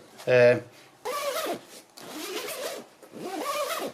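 A quick, buzzing zip on a Snugpak Softie Elite 4 winter sleeping bag is pulled once, close by, followed by a person talking.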